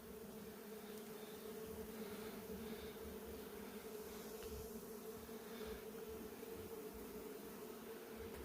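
A steady, continuous drone of many wasps buzzing behind a wall, muffled and low, holding an even level throughout with no talking.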